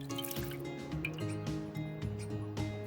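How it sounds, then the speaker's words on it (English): Water from soaked millet rava is poured into a clay pot, a steady liquid trickle and dripping running through the whole stretch at close range, with no voices. "To a clay pot, add the water from the soaked millet rava."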